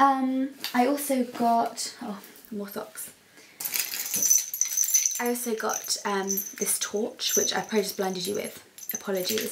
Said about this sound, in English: And I'm sorry for the noise as well, they're on my keys.